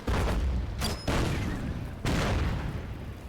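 A mortar barrage in the World War 2 strategy game Order of Battle, three heavy booming blasts about a second apart, each with a dense rumbling tail, fairly loud and with no talk over them.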